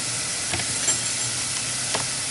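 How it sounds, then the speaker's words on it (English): Vegetables sautéing in butter with Italian seasonings for goulash, a continuous soft sizzle and hiss from the pan with occasional light stirring scrapes, close and steady. "just a little bit of butter in the sauteing vegetables"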